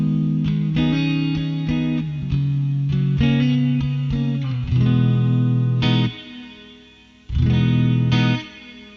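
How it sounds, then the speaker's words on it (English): An electric guitar runs through the flanger mode of a Joyo Atmosphere reverb pedal with the tone turned up, giving a sweeping, jet-like shimmer over sustained chords and picked notes, with a pause before a final strum. "If I bring up the tone, the flanger gets kind of more hi-fi and pronounced."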